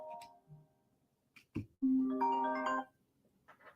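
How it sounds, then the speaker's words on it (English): An incoming call rings through a phone linked to a laptop. It gives a loud, sustained tonal ring after a few brief clicks, and there is no speech over it. "If y'all hear that loud ringing, so somebody trying to call me"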